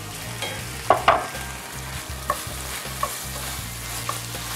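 Slices of tart Gold Rush apple, skin on, stir into a hot pan of cornbread stuffing mixture with a steady low sizzle, a couple of sharp utensil knocks, then lighter taps as the spoon moves through.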